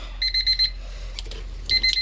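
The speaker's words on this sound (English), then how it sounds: "you can see we already have a beeping sound, you know, classic Honda sound" Two quick runs of high electronic beeps from a Honda CRX with a K-series engine swap, about four in each, separated by a short gap with faint clicks.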